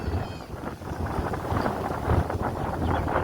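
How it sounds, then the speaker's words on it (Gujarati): Wind gusting across an open farm field where harvested bajra (pearl millet) lies in heaps, a steady rushing buffet on the microphone that swells and eases without pause. "આ પવન તો તમે જુઓ જ છો."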